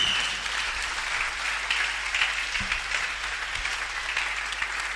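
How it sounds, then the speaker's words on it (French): A church congregation applauds during a Sunday service, making a dense, steady clapping that fills the room for the whole stretch. "Oh, acclame bien, acclame bien."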